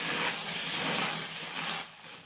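Dosa batter hisses steadily as it is spread across a hot new dosa pan on a lowered flame, a broad close sizzle that fades near the end.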